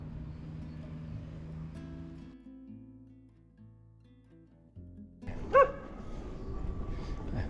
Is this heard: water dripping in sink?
no